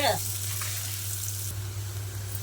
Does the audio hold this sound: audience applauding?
no